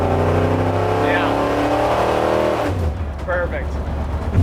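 1959 Chevrolet Viking short bus on a 1990 GM one-ton truck chassis, with a 454 big-block V8 and Turbo 400 transmission, revs loudly nearby, the note rising then falling off, with speech overlapping.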